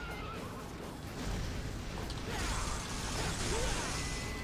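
Fire horse boss in the Devil May Cry video game neighing and whinnying over a dense, steady bed of game noise and mechanical clatter, moderately loud throughout.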